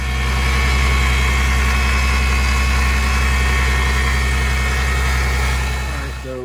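A car fitted with a PTFE fuel line kit and high-pressure fuel pump idles steadily up close, a loud, continuous low engine drone that holds even and then eases slightly toward the end.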